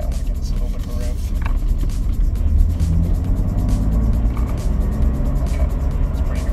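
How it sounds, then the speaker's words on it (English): BMW M3 engine given a brief rev, a steady low rumble that swells slightly, heard from close by with people talking over it. "All right, I want to give this a little bit of a rev."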